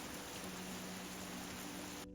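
Steady, even hiss of rain pattering on a surface, quiet and continuous, cutting off abruptly at the end.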